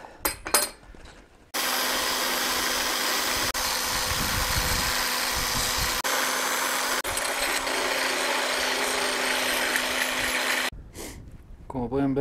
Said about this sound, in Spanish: Ahora una buena lijadita.